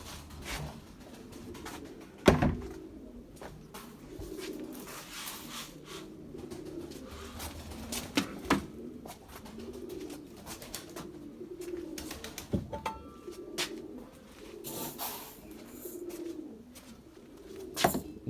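Pigeons coo repeatedly in a loft of young flying birds, a low rolling murmur throughout with occasional sharp knocks and wing flutters mixed in.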